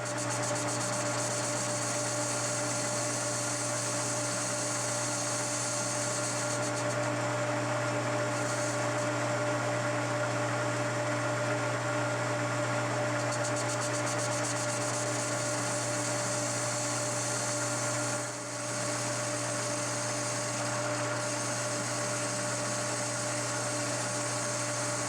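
A lathe or similar machine steadily cuts metal from the lip of a Toyota spindle during a 5-lug conversion for a D21 Hardbody, giving a constant loud hum with a high whine and steady hiss that barely changes for the whole stretch.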